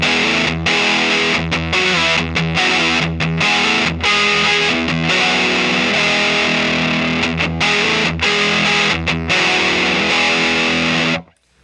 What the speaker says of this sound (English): This is a fuzz pedal after all.